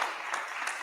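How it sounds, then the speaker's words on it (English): Audience applause at a legal conference event, a steady dense wash of many hands clapping, fairly faint and continuous without voices over it. "Another round of applause"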